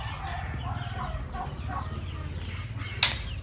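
Chickens cluck steadily at a small farm with a pig pen nearby, a close, continuous flock chatter over a low rumbling background, with one sharper squawk near the end.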